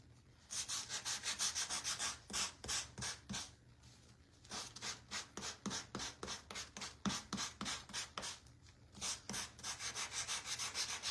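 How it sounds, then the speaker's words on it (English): A Gator sander works on wood in quick rhythmic strokes, a close scratchy rasp repeating in bursts with short pauses between runs. "You love your Gator sander."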